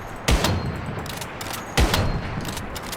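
Video game gunfire dumped into a boss, two sharp loud bursts about a second and a half apart, each trailing into rapid rattling fire and echo over a constant noisy battle backdrop.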